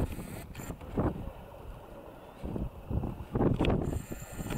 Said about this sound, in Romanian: Bate și vântul nebunul ăsta de vânt